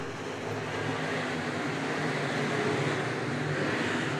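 Modified race cars roaring around the Cedar Lake Speedway dirt oval, a steady loud engine drone with no break and no voices.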